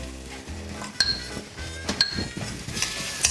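A spoon stirs salt into a sizzling kadai vegetable gravy in a pan, with soft scraping and sharp metallic clinks against the pan over a steady low frying hiss.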